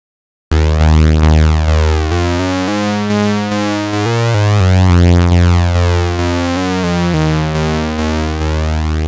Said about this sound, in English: We can also modulate the filter here using VCO2